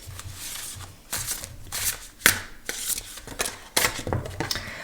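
Oracle cards being shuffled by hand in repeated riffling bursts, close and fairly loud, with short pauses between rustling flurries and no talking.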